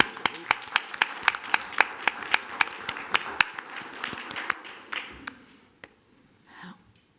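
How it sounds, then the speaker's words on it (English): A round of applause at a school board meeting, a few people clapping in a quick even rhythm that thins out and fades after about five seconds, with faint murmuring afterward. "That deserves another round of applause"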